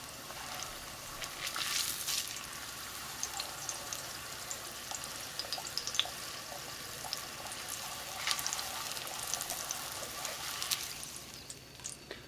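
Corn tortillas frying in hot oil for beef birria enchiladas, a steady close sizzle and crackle running throughout with brief louder bursts of spattering, no voices.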